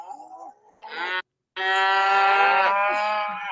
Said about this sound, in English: I hear the cows